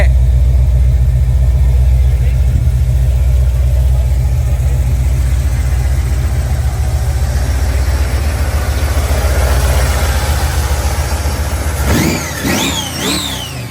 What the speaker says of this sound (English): this is a very strong Chevrolet engine build right here